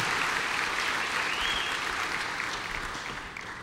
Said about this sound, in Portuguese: Vamos aplaudir esse papaizão bonzão?